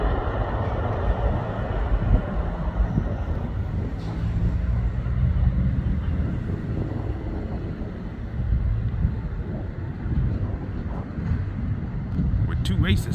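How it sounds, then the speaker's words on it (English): An eastbound three-by-one Q freight train on the Emporia Subdivision at Woodland Street in Olathe, Kansas rolls past as a steady, continuous rumble with wind buffeting the microphone throughout. "This was a 3x1 eastbound monster Q train."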